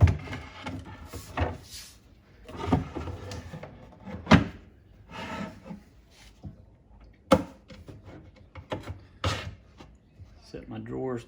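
Wooden drawer set onto extended drawer slides while building a media sound desk, heard as several close knocks, clacks and sliding scrapes of wood and metal hardware spread unevenly across the span, with no talking.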